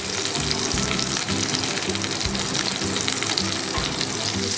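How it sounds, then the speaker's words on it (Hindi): Recheado-stuffed mackerel shallow fries in oil over a low flame for a Goan fish fry, giving a steady, dense, close sizzle and crackle throughout with no talking. "लो फ्लेम पर शैलो फ्राई करना है"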